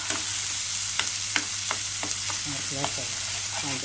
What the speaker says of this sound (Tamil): இப்போ இதை நல்லா வதக்கி விட்டுடலாம்